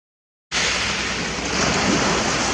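Ocean waves wash onto a beach at the bottom of a coastal path, a steady, full roar of surf that starts suddenly after a short silence and stays constant and fairly loud.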